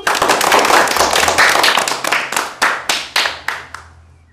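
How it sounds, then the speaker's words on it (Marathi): A group of children clap their hands together, a dense, irregular burst of claps that gradually thins into a few separate, evenly spaced claps before fading out. "चला टाळ्या वाजवा बघू."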